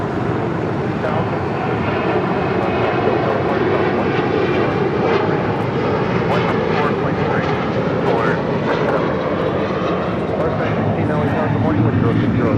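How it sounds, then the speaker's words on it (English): A Boeing 777 freighter arriving from Anchorage goes around at LAX, its engines roaring loud and steady throughout with a broad rumble and whine, while radio voices talk over it. "This 777 freighter going around, coming in from Anchorage."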